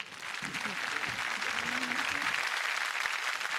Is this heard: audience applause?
yes